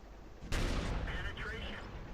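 A tank cannon fires in World of Tanks, shooting at a fence in front of the tank: one sudden, loud, close blast with a long rumbling decay, as a light tank fires in the game.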